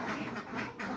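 Farm ducks about five months old quack in a quick series of three or four nasal calls, close and fairly loud, with no voices.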